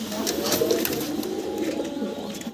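A pair of white Lakha pigeons coo softly amid background chatter and rustling, low repeated coos running close and continuous.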